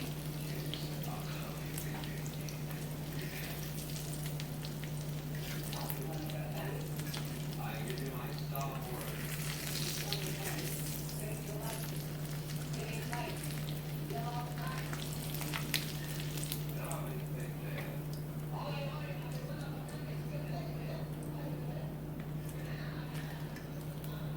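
Bacon sizzles and crackles steadily in a pan, a dense continuous frying hiss with a constant low hum underneath and occasional clinks and small stirring sounds.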